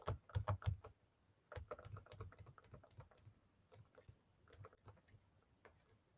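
Several people typing on computer keyboards in scattered, overlapping bursts of key clicks during a live online class, starting with a dense flurry and then thinning into intermittent tapping.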